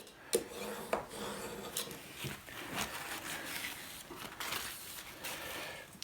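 A knife drawn across a sharpening stone makes steady scraping, rasping strokes, close and fairly quiet, with a few sharper clicks early on and no talking.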